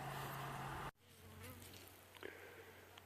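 Bees buzzing outdoors on an overcast day, a faint steady drone that runs on after a loud hum cuts off abruptly near the start.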